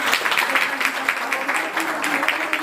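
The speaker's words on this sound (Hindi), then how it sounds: "जोर से तालियां बजा के।" Loud, rhythmic clapping of a crowd welcoming a guest at a nature satsang in Rohtak, close and energetic with distinct pulsing claps across the whole stretch.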